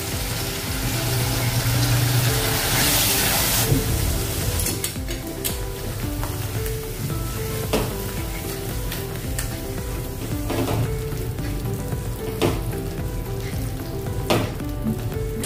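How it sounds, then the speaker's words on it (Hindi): Onion, garlic, tomato, green chili and ginger paste frying in hot oil for besan aloo sabji, giving a steady, close sizzle throughout with stirring scrapes and occasional clicks of a utensil against the pan. "अभी इसमें डालेंगे टमाटर, हरी मिर्च और अदरक का पेस्ट"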